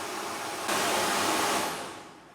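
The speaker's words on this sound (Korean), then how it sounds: "드라이기가 이제 동작을 하면서 온도가 올라가요" A hair dryer runs as a heat source in a mock-up dryer controller test, blowing a steady whooshing hiss that jumps louder partway through as it powers up, then tapers off as it winds down, with no voices.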